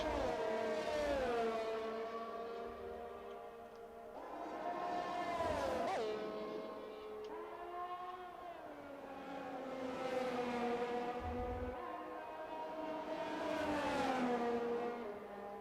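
F1 video game race cars at the Mexico City Grand Prix, engines revving up and down in repeated rising sweeps as cars overtake using DRS, loud and continuous with no talk.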